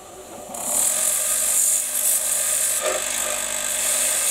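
A small power tool smooths the rough edges off a piece of wood, a steady, loud, high-pitched whirring grind that runs almost continuously after a brief quiet start.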